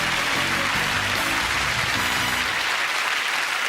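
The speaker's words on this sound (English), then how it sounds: "A round of applause for Richard." A game-show studio audience bursts into loud, sustained applause and cheering, a dense wash of clapping that fills the whole moment and fades slightly at the end.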